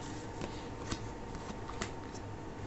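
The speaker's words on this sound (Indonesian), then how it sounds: "Ini kita akan shuffle dulu kartunya ya" A tarot deck is shuffled close by in a steady, continuous riffle of card noise with small, crisp flicks and slaps running throughout, with no voice over it.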